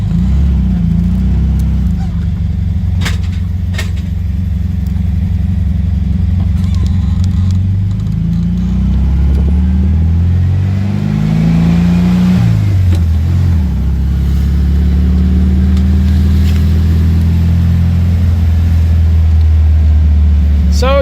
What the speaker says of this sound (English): Really good running engine.